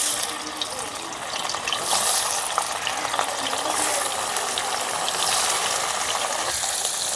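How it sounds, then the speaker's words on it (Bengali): Paneer frying in a pan for a potato and pointed gourd vegetable dish, a continuous hissing sizzle with gentle swells, close and steady, without talk. "পনিরটা ভেজে নেব।"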